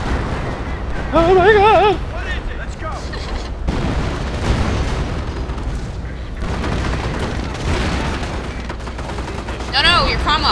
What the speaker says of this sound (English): And there goes the creeping barrage